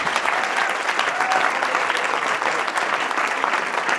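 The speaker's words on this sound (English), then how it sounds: "let's give the candidates a round of applause." Steady applause from an audience at a Cambridge city council candidate forum fills the space, dense and even throughout, with no voices standing out.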